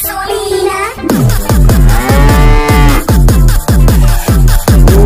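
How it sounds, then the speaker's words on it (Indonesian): Young calf moos repeatedly, loud and close, with long drawn-out calls following one another over a steady low rumble. "Ini sapi pedet namanya teman-teman"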